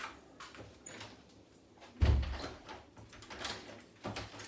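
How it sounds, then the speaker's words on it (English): A back door of a home kitchen pushed shut, one fairly soft thud landing midway through faint room noise and movement, with a few lighter knocks after it. "I'm going to shut the back door, keep the flies out"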